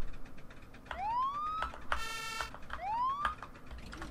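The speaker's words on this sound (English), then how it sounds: "So, sirens." Police sirens from the vehicle-building game Brick Rig sound loud and close: two rising wails with a short electronic burst between them, and no talk.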